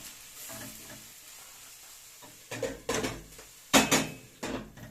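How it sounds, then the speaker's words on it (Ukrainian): Onion and carrot sizzle and stew quietly in a pan, broken by a few louder scrapes and clinks of a utensil stirring against the pan. "Цибулька морква у нас тушиться."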